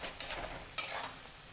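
Paneer being sautéed in a pan gives two quick scraping stirs over a faint, low sizzle, close and quiet.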